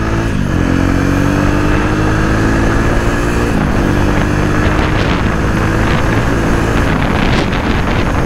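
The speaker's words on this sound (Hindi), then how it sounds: "अब इसको थोड़ा 70-80 की स्पीड तक जाकर देखते हैं।" Jawa 42 BS6 motorcycle cruising on a highway at around 70-80 km/h, a steady loud engine drone with rising gear-shift pitch sweeps and heavy wind rush throughout, no talking.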